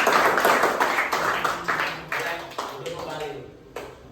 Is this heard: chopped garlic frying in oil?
no